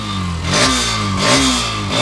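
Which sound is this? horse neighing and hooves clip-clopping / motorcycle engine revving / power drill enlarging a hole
motorcycle engine revving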